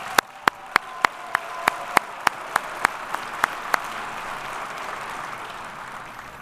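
Applause at a police department awards ceremony, a wash of crowd clapping punctuated by a series of loud, evenly spaced sharp claps near the front that stop after about four seconds while the softer clapping continues.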